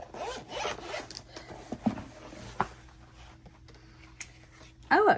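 A zipper on a zip-up case holding a set of dual-tip brush markers is pulled open in a few short, close rasping bursts, with quiet handling noise and a brief louder zip at the end.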